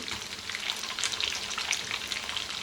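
Green chillies fry in a hot pan with a steady, close, crackling sizzle that stays fairly even throughout, with no voices.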